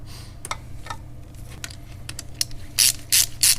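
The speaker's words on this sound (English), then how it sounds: "Going to tighten the hose clamp that connects up the air tube to the throttle body." A ratchet tool tightens the hose clamp joining the air tube to the throttle body on a Toyota 3RZ-FE engine, giving a few scattered clicks and then three louder, close ratcheting bursts near the end.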